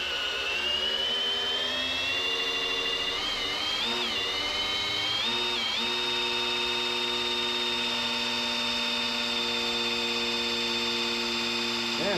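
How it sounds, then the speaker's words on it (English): A cordless drill spins the oil pump of a V8 350 hot rod engine, a loud steady whine that wavers briefly in pitch before settling into a constant drone. "I switched to the drill."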